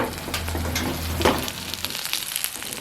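Spices tempering in hot oil, a steady loud sizzle and crackle that runs throughout, made while preparing a spicy cassava evening snack.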